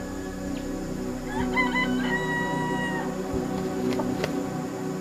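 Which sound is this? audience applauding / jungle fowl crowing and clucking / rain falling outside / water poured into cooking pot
jungle fowl crowing and clucking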